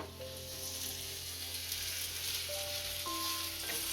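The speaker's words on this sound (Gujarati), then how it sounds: "હવે આને તળી લઈશું આપણે" Steady oily sizzling of a green onion paratha frying in a pan on a gas stove, continuous and close, with faint tonal hum and clinks in the background.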